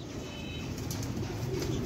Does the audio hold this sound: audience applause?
no